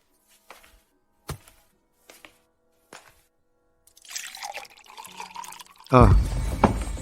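Water pours into a container in the last second, a loud full splash after several sharp knocks and a stretch of soft rustling and clatter.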